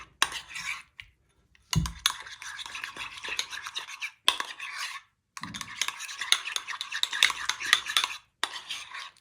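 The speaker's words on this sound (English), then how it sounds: "We need to whisk half a cup of yogurt" Half a cup of yogurt whisked by hand, a utensil rattling and scraping quickly against a bowl in several bursts separated by short pauses, close and fairly loud with no talking.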